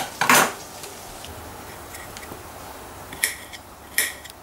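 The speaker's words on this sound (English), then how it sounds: "Chopping tomatoes like a good Italian" A knife chops tomatoes on a board in a cramped kitchen, a few sharp isolated knocks with quiet gaps between them, close by and without talking.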